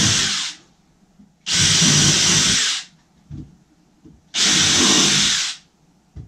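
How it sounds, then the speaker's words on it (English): A power drill countersinks screw holes in a DIY footstool, sounding as three loud, steady whirring bursts of about a second each, separated by short pauses with faint knocks in between. "Now I'm just going to countersink these a little bit."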